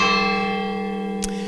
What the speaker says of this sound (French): Et donc au-dessus, on vient de les entendre, il y a les cloches.